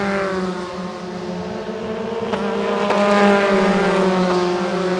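Formula 4 race cars in a 2018 South East Asia championship race roar along the main straight, a loud sustained engine whine rising as the cars accelerate past, with no speech over it.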